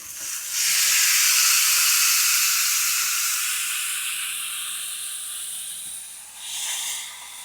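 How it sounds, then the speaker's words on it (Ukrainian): Dorado fish hits a hot grill and sizzles loudly, a broad hissing surge that swells quickly, slowly fades, then flares again briefly near the end, close with no talking. "І тепер другу рибку дорадо відправляємо на гріль."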